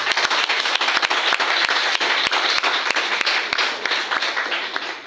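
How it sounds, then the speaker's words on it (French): A church congregation applauds together, with brisk, steady clapping that stays loud and dense for several seconds before easing slightly at the end. "Acclamons pour le Seigneur."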